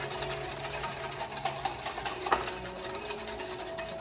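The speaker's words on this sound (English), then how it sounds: "And then we're gonna whisk." Instant pudding mix is whisked into whole milk with a steady, rapid, scraping rhythm that carries on throughout, with occasional sharper taps against the bowl and no talking.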